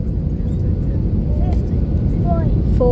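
An airliner lands at Malaga, heard from inside the cabin as a loud, steady roar of engine and airflow, with faint cockpit callouts and chimes near the end.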